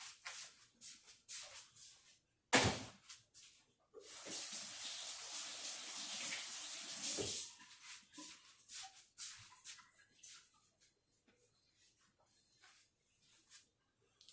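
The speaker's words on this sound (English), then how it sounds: "I'm going to go rinse my hands because they're all sticky from the lemons" Running tap water pours steadily over hands for a few seconds as sticky lemon juice is rinsed off in a kitchen sink, bracketed by nearby clattering, shuffling and scattered clicks.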